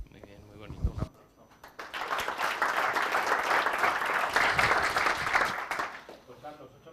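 Audience applause at a university innovation workshop awards ceremony swells after a brief spoken remark, holding as a dense, even roar of clapping for about four seconds before fading.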